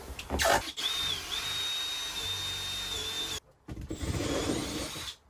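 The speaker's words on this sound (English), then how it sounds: "That's where I need to drill my 2 holes." A power drill whirs steadily with a high motor whine while drilling holes in a camper van shower room, stops briefly, then spins up again close by.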